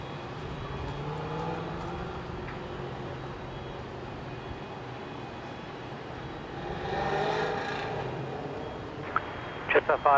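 An airliner departing Brisbane Airport rumbles in the distance, a broad engine roar swelling and fading, while people talk nearby over the noise.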